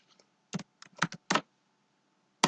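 Someone typing a file name on a computer keyboard: a short, sparse run of crisp key clicks, a few in quick pairs with gaps between, close and quiet against near silence.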